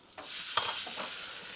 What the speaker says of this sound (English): Hear that sizzle? That's what we like to hear.